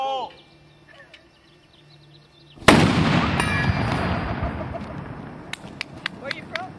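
A single sharp anvil firing blast at a Weaverville 4th of July event, a loud sudden boom that rings out and decays, with crowd voices and scattered pops following.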